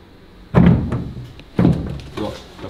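Two solid thunks from a carbon fiber car door as it is lowered onto its hinges, each a short heavy knock with a softer follow-up tap, while a person talks quietly nearby.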